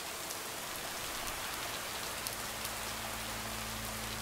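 Steady rain falling in the Bonfire video game, a dense, even patter with a low hum beneath it, continuous and fairly close throughout with no voices.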